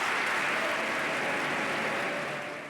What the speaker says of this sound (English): he gets 29 or 39 standing ovations